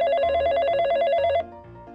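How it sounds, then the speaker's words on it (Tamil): A telephone rings with an incoming call, a loud electronic trilling ring that repeats for about a second and a half and then cuts off, leaving a quieter low background. "சொல்லி வாய முடியல, அதுக்குள்ளேயும் ஒருத்தர் கால் பண்ணிட்டாரு"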